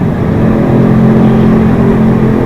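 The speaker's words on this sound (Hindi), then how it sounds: "अपनी बाइक को रेस दे रहे हैं। बड़े बुरी है उनकी बाइक की आवाज़ है, पूरी टनल में गूंज रही है" A motorbike engine revs and drones loudly and steadily at close range inside a tunnel, a deep, continuous echoing rumble with no pauses.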